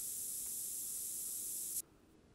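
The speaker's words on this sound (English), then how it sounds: "I'm gonna spray again." Scent spray from a hunting game, a steady close hiss that holds for just under two seconds and then cuts off abruptly, leaving faint quiet.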